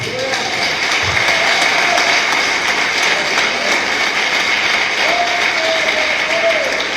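A church congregation applauds in a long, dense, even wash of clapping that holds at full strength for about seven seconds, with a few voices faintly audible through it.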